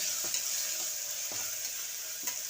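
Spices with chillies, coriander powder and masala fry in a pan for a quick prawn dish: a steady bright sizzle with a few soft scraping stirs spaced across it, close and even.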